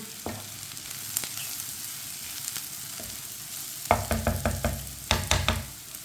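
Onions frying in a pan until lightly browned, a steady close sizzle punctuated by louder rhythmic bursts of stirring and spatula scrapes against the pan.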